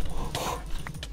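A dog in Minecraft gives a couple of short barks amid game noise during a PvP tournament match.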